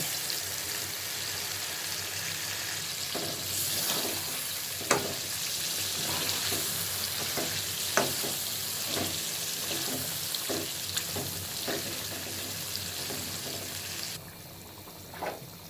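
Bird meat frying in cooked-down spice paste for a curry, a steady close sizzle with repeated sharp stirring scrapes and clinks, dropping quieter near the end.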